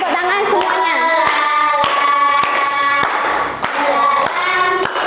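A fifth-grade class claps hands in a steady, evenly spaced beat, each clap sharp and close, while voices sing along throughout.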